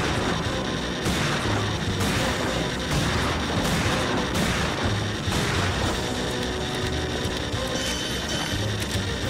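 Shotgun blasts in Time Crisis 4, the PS3 shooting game, come as a string of loud booming shots about a second apart, layered over a dense wash of game music and noise.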